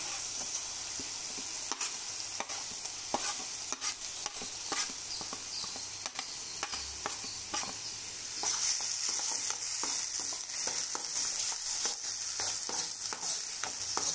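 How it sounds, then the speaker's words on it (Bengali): Ground onion paste fries in hot oil for a fish curry, a steady close sizzle with intermittent scraping stir strokes, the crackle swelling slightly louder toward the end, no voices. "তেল গরম হওয়ার লগে লগে আমি গ্রাইন্ড করে থাকা পিঁয়াজখিনি দি দিছো।"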